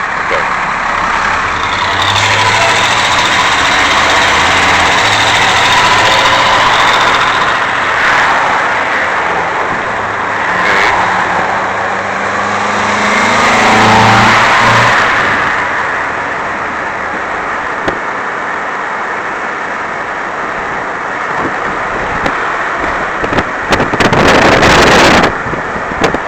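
Car driving down the road, heard from inside as a continuous engine and road rumble with wind noise across the microphone, steady and loud, with a few louder bumps near the end.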